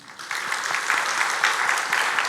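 Congregation at a Sunday church service breaks into applause, clapping swelling up after a quiet start and holding steady for a couple of seconds.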